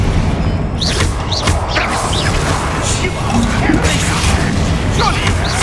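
Hogwarts Legacy video game: the Confringo explosive spell goes off in loud fiery bursts and crashes with whooshing streaks amid busy combat noise, with a voice partly mixed in.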